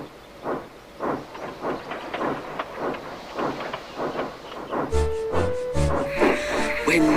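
Steam locomotives labouring along, puffing in a steady chugging rhythm that gives way to loud hissing bursts of steam and metallic clanking near the end, fairly close and with no talk.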